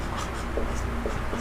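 Pen or chalk scratches steadily across a writing surface as a percentage problem is worked out, a faint continuous scraping with small strokes, under a noisy background.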